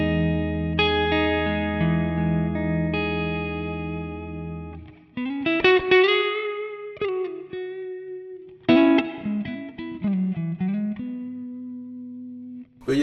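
A clean electric guitar on its neck pickup, a Sire S3, rings out with a sustained chord, then plays a series of picked single notes and short phrases, clear and undistorted.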